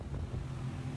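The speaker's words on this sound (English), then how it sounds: "It is so windy." Strong wind buffeting the microphone around an abandoned building, a continuous low roaring rumble with no voices.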